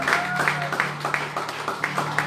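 A church congregation claps in a steady, brisk rhythm, many hands striking together in time, with a sustained tone of singing or voices underneath.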